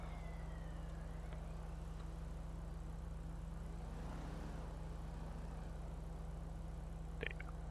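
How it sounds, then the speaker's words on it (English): Police sirens in GTA 5 roleplay, faint and distant wailing rising and falling beneath a constant low engine hum, with a brief click near the end. "Sirens, they heard that NOS go off."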